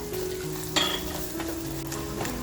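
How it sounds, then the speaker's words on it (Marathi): Homemade masala for fish with spinach frying in a pan, a soft continuous sizzle with a few sharp spoon scrapes, heard alone without speech. "मसाला आपला आहे ना छान असा फ्राय झाला पाहिजे"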